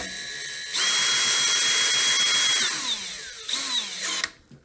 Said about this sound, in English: we're gonna go ahead and drill those in. Screw them in either way.